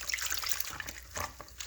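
Tap water runs steadily into a sink to rinse aquarium filter hoses for a Hydor 450 filter, a faint close trickle and splash with no talking.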